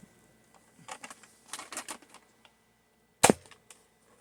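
A Nerf dart blaster fires once, giving a single sharp, loud snap after a few seconds of quieter clicking and handling sounds.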